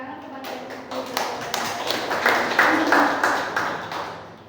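An audience at an Indonesian school dissemination session gives a round of applause, scattered claps building into a fuller, brighter patter that swells toward the end.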